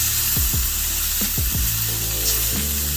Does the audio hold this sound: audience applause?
no